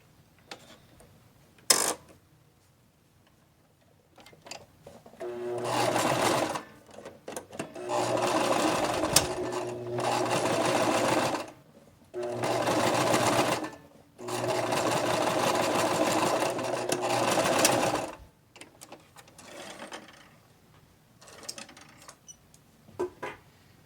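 Domestic sewing machine running zigzag stitches, heard in four steady whirring bursts of several seconds each, separated by brief pauses with small clicks, close and clear with no talking.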